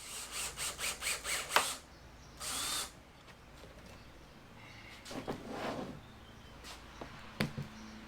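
Power drill driving a screw into a board, heard as a quick run of rhythmic bursts followed by a sustained whirring stretch, then scattered handling knocks and clatter, close and fairly quiet.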